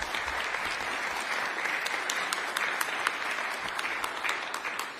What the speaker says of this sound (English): Give our governor a huge round of applause.